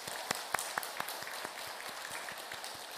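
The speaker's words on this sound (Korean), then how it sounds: "박수로 하나님께 영광 올려드리겠습니다" A Korean church congregation applauding at a Sunday service, scattered individual claps over a soft, continuous patter of hands, heard from a moderate distance with no speech.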